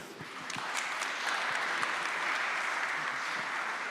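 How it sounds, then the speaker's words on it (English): Audience applause at a 20th anniversary ceremony marking cooperation between AGH University and Shibaura Institute of Technology, a dense, steady clapping from a hall crowd that holds at even loudness for several seconds. "let us welcome with applause again"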